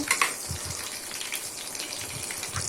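Garlic frying in hot oil in a pan, a steady soft crackling sizzle with faint splutters, close and alone without talk.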